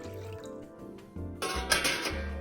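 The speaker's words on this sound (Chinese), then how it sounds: "蒸锅里倒水" Tap water pours into a metal steamer pot in a home kitchen, a steady splashing rush that starts about halfway through and grows louder, over a quiet low background tone.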